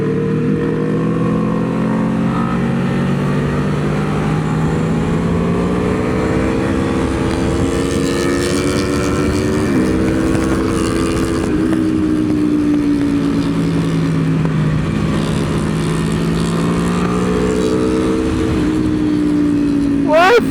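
Aprilia Tuono V4 motorcycles and a 300 accelerating on a race track during a track day, a steady droning engine note rising and falling throughout, with people talking over it.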